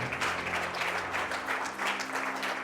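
A church congregation bursting into sustained applause in praise, dense close clapping from many hands with a faint voice beneath.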